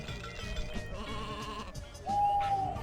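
Sheep bleating in the PS1 video game Sheep Dog 'n' Wolf: a drawn-out, clear bleat rises near the end over busy game music and effects.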